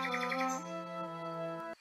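Cartoon birdsong plays in an educational forest-life science game for young children, a bright run of tuneful chirps and tweets sliding down in pitch before cutting off abruptly, clear and close with no speech.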